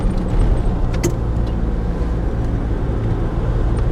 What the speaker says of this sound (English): little cars are coming through